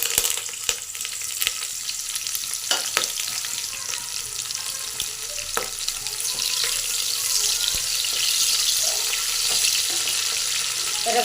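Steady, close sizzle of onion and curry leaves frying in hot oil, with occasional stirring clicks and pops and no talking.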